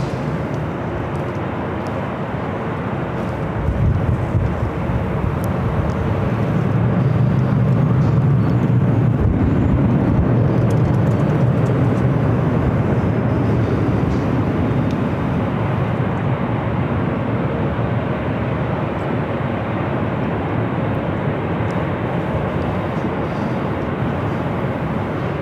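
A Delta airliner takes off from runway 24 left at LAX, a loud, sustained jet roar that swells and then holds steady.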